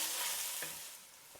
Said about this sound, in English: Ginger and garlic paste. Stir this in.